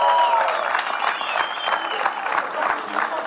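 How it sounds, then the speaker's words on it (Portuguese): A studio audience at the late-night show 5 Para a Meia-Noite gives loud, sustained applause for the guest Capicua, a thick, even wash of clapping with crowd noise throughout. "Uma salva palmas, Capicua"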